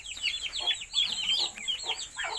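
A mother hen in a backyard free-range farm clucks repeatedly in quick, close, agitated bursts, with soft chick peeps mixed in and no talking.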